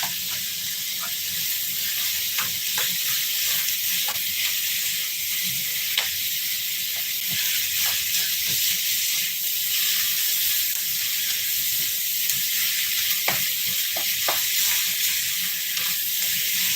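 Garlic and onion sizzle in a pan for a beef taco casserole, a constant soft hiss with scattered small crackles and pops, fairly quiet and steady throughout.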